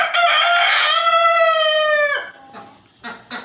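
A fancy grey buff rooster crows loudly and close by among hens in a pen, one long sustained call lasting about two seconds, followed by a few short clucks.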